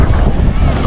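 Wind gusts across the beach at Rosa Beach Thalasso & Spa in Tunisia, a brief, steady rumbling buffet of wind on the microphone, fairly loud, with a hint of surf beneath.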